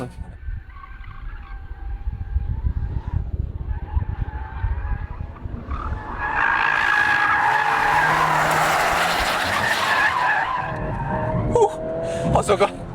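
A Volkswagen Golf R takes a corner fast, its tyres skidding and squealing in a loud sustained screech over engine noise, with people talking inside the car.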